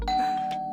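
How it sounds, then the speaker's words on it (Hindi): A doorbell rings once, close and clear, a bright ding-dong chime ringing out through the short moment with nothing else around it. "जिंदगी में पहली बार इतना मजा आ रहा है डोरबेल बजने से"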